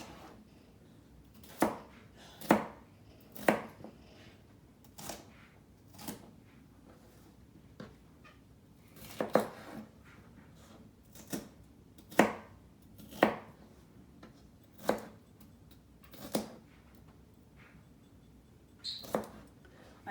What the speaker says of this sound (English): So I'm just gonna cut it into some chunks.